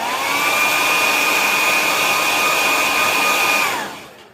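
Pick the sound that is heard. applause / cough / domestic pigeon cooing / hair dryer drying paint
hair dryer drying paint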